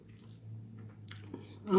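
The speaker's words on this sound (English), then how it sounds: "I don't know if y'all can hear that crunch, but that batter makes the perfect crunch." Crunchy battered honey BBQ wings chewed close to the mic, soft biting and crunching bursts near the end of a short, quiet stretch.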